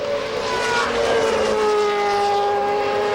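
Formula 3000 3-litre V8 racing engines at a 2003 race in Spain, a loud sustained high-pitched scream with a descending Doppler-like sweep as a car passes, heard without voices.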